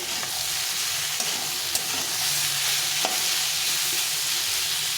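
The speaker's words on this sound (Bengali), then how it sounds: "লবণ দিলে একটু জল বেরোবে সবজি থেকে দিয়ে একটু ভেজে দিতে হবে" Vegetables and small fish fry with salt in a pan, sizzling continuously at close range with occasional scraping stirs and soft clinks, and no talking.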